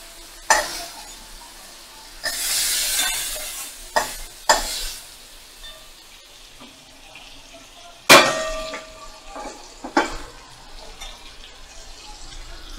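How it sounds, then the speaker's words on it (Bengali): Shrimp sizzle in hot oil in a home kitchen as a pumpkin shrimp dish is cooked, with bursts of frying hiss, scraping stirs and clanks of a utensil against the pan as the pieces are lifted out. "চিংড়ি মাছগুলো ভাজা হয়ে গেছে"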